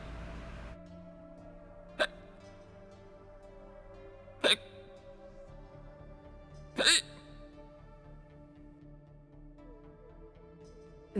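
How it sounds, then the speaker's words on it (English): A cartoon skeleton hiccups three times, each a sharp, isolated burst a couple of seconds apart, over a steady, quiet musical background. "The hiccup stayed."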